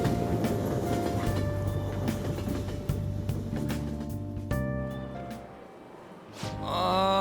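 Steady rumble of a train running on rails in Persona 5 Royal, a continuous rolling drone with faint rhythmic clatter, broken by a few sharp transients and a brief quieter stretch before it swells again near the end.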